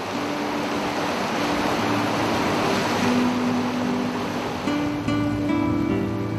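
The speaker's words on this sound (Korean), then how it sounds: "요세미티를 가로지르는 머세드 강입니다." The Merced River in Yosemite flows with a steady, full rush of water that never lets up, with soft tonal music faintly underneath.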